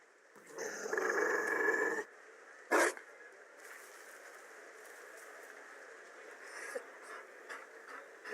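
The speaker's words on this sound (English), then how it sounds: "You found a dog." A Mabari dog from Dragon Age Inquisition growls in a low, rough rumble over game ambience, followed by a short sharp burst and faint soft noises.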